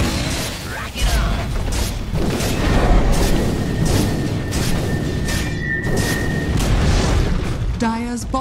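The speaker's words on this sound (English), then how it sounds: "Dire's bottom tower has fallen." A tower collapses in Dota 2 amid game combat, a dense, loud rumble of booms and bursts lasting several seconds, with a brief tonal announcer-like sweep near the end.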